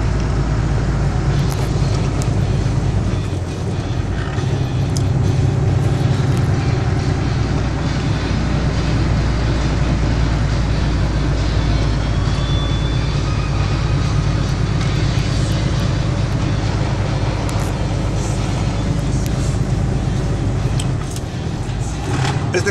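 An underpowered, badly tuned car strains to climb a hill between Linares and Montemorelos, its engine droning loud and constant with heavy low rumble and road noise, no voices.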